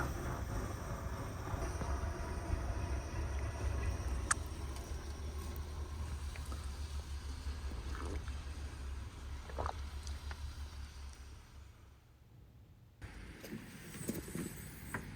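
A snowplow rumbles past a kei car parked in snowy country during a snowstorm, a low heavy engine drone that gradually fades and then gives way to quieter sounds.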